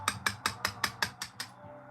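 A round metal hammer strikes a stone carving tool eight times in a quick, even rhythm, each blow a close, bright ringing clink that fades slightly toward the end.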